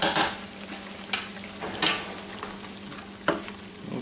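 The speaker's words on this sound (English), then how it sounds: "You want to kind of scrape and make sure you get all the brown bits off the pan." Chicken Marsala pan being deglazed: a utensil scrapes brown bits off the pan bottom in several sharp strokes over a steady liquid sizzle, close and moderately loud.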